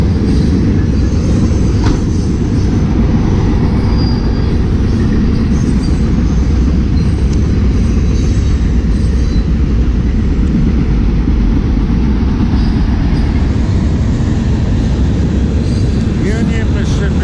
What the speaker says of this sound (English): That was the Union Pacific Railroad that just went by.